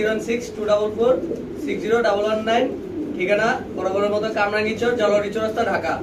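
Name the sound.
pigeons cooing in a pigeon loft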